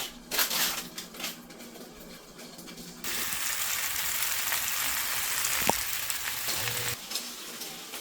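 Hairtail fish laid into a dry pan preheated over medium heat, bursting into a loud, steady sizzle after a quieter start, with crackling frying noise running for several seconds before easing off near the end.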